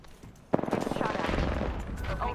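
Rapid gunfire bursts in a shooter video game start abruptly and continue densely amid game effects, with a voice speaking briefly over the action.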